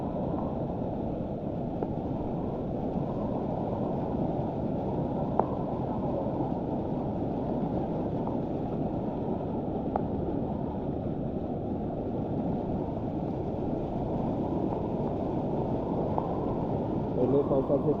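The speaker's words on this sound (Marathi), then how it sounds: "पहिले पावसाचे पूर झाले रे, भरपूर पाणी आहे" A small river swollen by the first monsoon rain rushes past in a steady, dense wash of flowing water, loud and continuous throughout with a faint wind buffet on the microphone.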